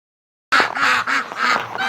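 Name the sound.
ducks quacking outside in winter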